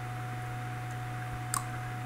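One crisp press of the Enter key on a computer keyboard, a single short click against a quiet room with a steady electrical hum.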